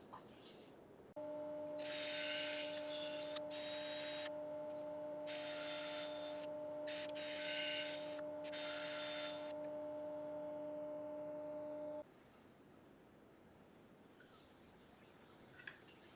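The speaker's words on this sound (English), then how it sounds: "I'm going to get it sanded and we can get it flipped around and into the chuck." A mulberry wood bowl tenon sanded on a woodturning lathe: a steady motor hum runs under repeated scratchy bursts of sanding, which stop after about twelve seconds and leave a faint room hush.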